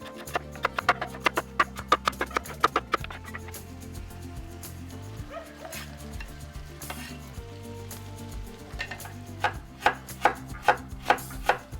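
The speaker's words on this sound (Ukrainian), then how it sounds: "нарізаю моркву, цибулю та картоплю для супу" Rhythmic knife chopping carrots, onions and potatoes on a cutting board, sharp regular thuds in quick bursts, close by, with a faint sizzle of a frying pan in the background.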